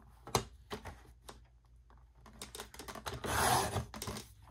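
Scissors or a blade cut away the white border of printed paper, a sequence of close, dry snips and scraping rasps, including one longer cutting stroke, with no one talking.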